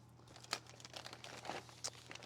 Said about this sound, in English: there's no wrong way to cut open a plastic bag, really